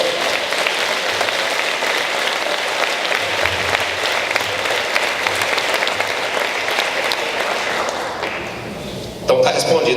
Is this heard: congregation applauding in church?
yes